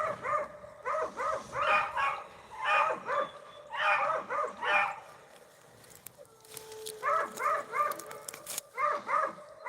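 Beagle pups in a pack bay and yelp in repeated overlapping bursts while running a rabbit outdoors in the evening, fairly close, with brief lulls between volleys.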